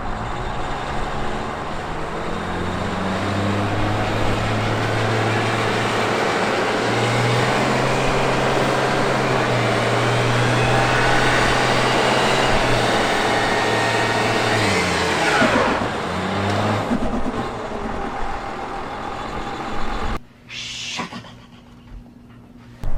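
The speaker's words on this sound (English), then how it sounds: "that's the best burnout I can do with a stock truck" A mostly stock 226-horsepower Cummins diesel pickup roars through a sustained burnout, a loud continuous engine drone with a rising surge near the end before dropping off sharply into quieter sound.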